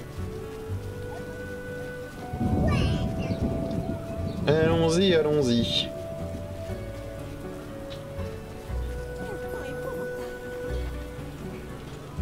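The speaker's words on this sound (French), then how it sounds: "Il pleut souvent dans cette région quand même." Steady rain patters across the world of The Witcher video game, a soft constant wash beneath background music tones, with someone talking over it in the middle.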